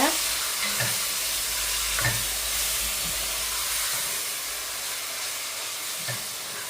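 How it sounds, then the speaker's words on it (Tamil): Chili sauce stirred into a hot frying pan for Sri Lankan chicken devilled, with a steady hissing sizzle and a few soft scraping stirs close by, no talk. "ஒரு ஒரு ടേബിൾ സ്പൂൺ சில்லி சோஸ் இதை போட்டு நல்லா மிக்ஸ் பண்ணுங்க"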